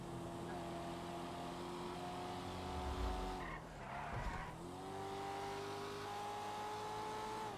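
Race cars in GTA V roleplay, with a steady high engine whine that dips into a loud tire squeal and skid midway, then climbs back to a sustained rev.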